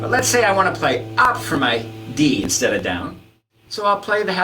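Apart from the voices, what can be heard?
No distinct noise like a dog, phone or traffic.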